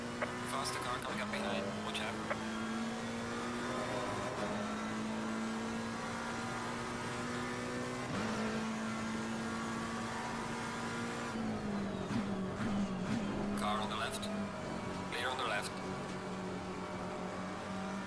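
Race car engines in the ACC racing game during a Silverstone endurance race, a steady droning engine note with shifting pitch and occasional gear changes, while people talk over it.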